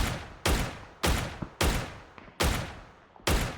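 Gunfire in the battle royale game PUBG: six loud, sharp shots spaced roughly half a second to a second apart, each followed by a long ringing decay, with no talk over them.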